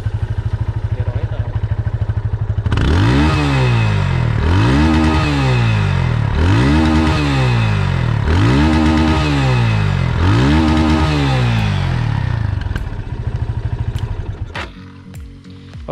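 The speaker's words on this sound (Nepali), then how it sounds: "अब बाइक चाहिँ अब फुल रेसमा दिँदा पनि खासै त्यस्तो धुवा चाहिँ केही फालेको देखिएन" A secondhand motorcycle engine idles, then is revved at full throttle five times in a steady rhythm, each rev rising sharply and falling back, close and loud before settling toward idle.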